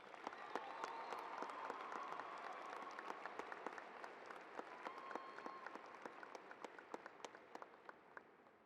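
Warm applause from the audience at a high school commencement, a full crowd clapping steadily at moderate distance before thinning into sparser individual claps near the end.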